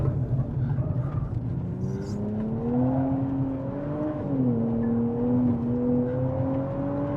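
A car accelerating hard on a race track, its engine note climbing and holding steady in a loud, continuous close-up drone with a brief shift dip midway; no talk is heard.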